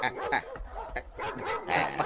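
A dog barks in quick repeated bursts mixed with yips and whimpers, fairly close, over a busy background with voices in an Ilocano comedy drama scene.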